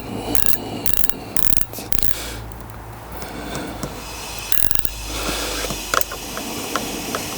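Mechanical ratcheting clicks in short bursts as a Gilles Tooling adjustable brake lever is tightened on a 2021 Yamaha MT-09 SP motorcycle, close and fairly loud over a steady background hiss, with pauses between bursts.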